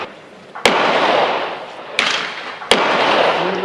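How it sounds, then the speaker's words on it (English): A Winchester 1895 Russian musket rifle fires at steel targets on a range: three loud, sharp cracks, each trailed by a broad rushing echo. "Finally at the range, and I'm going to be shooting at steel first."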